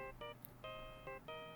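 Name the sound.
Steel Samurai ringtone from Ace Attorney Dual Destinies video game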